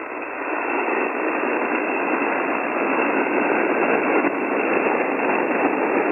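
Steady hiss of amateur HF radio static on the 40-meter band at night, a dense band-limited noise holding at an even level from start to finish with no voices.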